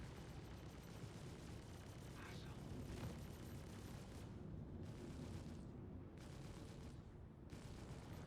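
Cannon fire in a space combat video game, heard as a dense, continuous roar of rapid blasts and rumbling that stays loud throughout, with no clear pauses between shots.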